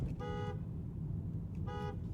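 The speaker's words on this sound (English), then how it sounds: "It's a good horn." Horn of a 2026 Aston Martin DBX S sounding two short honks about a second and a half apart, heard from inside the car over a low steady engine and road rumble.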